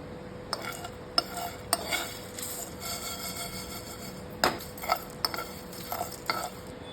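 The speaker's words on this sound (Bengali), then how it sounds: "জিরা, ধনে, এলাচ, লবঙ্গ, দালচিনি, জয়িত্রী, তেজপাতা আর গোলমরিচ একটু শুকনো খোলায় ভেজে এটাকে গুঁড়ো করে নেব" Whole cumin, coriander, cardamom, cloves, cinnamon, mace, bay leaves and black peppercorns dry-roasting in a dry pan, with sporadic scraping strokes and rattling spatula stirs over a quiet background; no one speaks.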